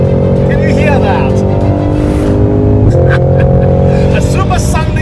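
A Cadillac CT5-V Blackwing luxury sports sedan's engine drones loudly and steadily, its pitch shifting as it revs, with a brief rise partway through and some wind or road noise.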